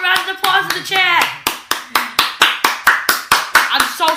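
A voice talks at first, then a single person claps hands right at the microphone, loud sharp slaps in an even, steady rhythm of about two per second.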